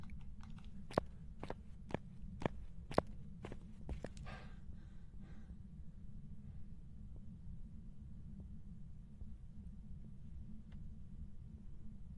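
Ghost footsteps in the Phasmophobia VR game sound as a quick run of sharp, distinct thuds over a steady low hum, then fade and stop.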